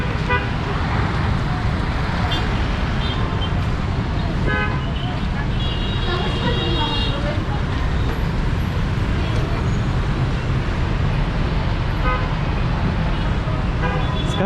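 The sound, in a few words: traffic jam with car horns and buses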